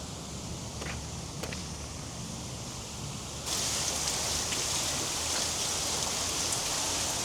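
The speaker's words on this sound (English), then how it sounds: "Quite impressive building, I must say, with this water coming down." Water pouring down the front of a museum building and splashing onto the pavement, a steady hissing rush that grows louder and brighter partway through, with a few faint clicks.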